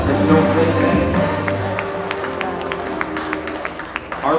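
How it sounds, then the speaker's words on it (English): Audience at a school fashion show applauding and cheering in a hall, loud crowd noise at first that thins to scattered individual claps toward the end. "Round of applause for Snowflake Madness."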